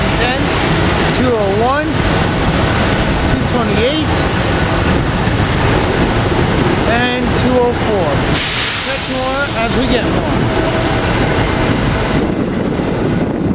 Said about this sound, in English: we can get the train coming in